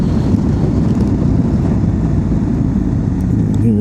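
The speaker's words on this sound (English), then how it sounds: "this engine braking on Sport 1, it's not super intrusive" A 2025 Honda Africa Twin DCT motorcycle rides along in Sport 1 mode under engine braking, its low engine drone heavy with wind rush and steady throughout.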